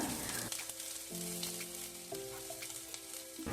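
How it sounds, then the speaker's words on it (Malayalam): Cooked chickpeas go into a pan of fried onions, giving a steady, moderate sizzle under horizontal tonal hum lines, with faint clicks of ingredients hitting the pan and no talking. "സവോളയൊക്കെ ഒന്ന് മൂപ്പിച്ചെടുത്തതിന് ശേഷം നമ്മൾ കടല അങ്ങോട്ട് ഇട്ട് കൊടുക്കുന്നുണ്ട്"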